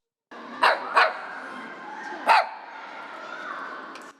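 A Pekingese dog barks three times nearby, two quick barks close together then one more after a pause, over steady background noise, at a shelter.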